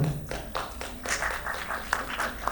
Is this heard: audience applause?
yes